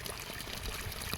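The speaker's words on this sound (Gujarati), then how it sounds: "તો જો આ રીતે બધામાંથી પાણી બહાર વહી આવ્યું છે" Water streaming from the outlets of drip irrigation pipes on a farm, a dense continuous gushing pour, close and steady.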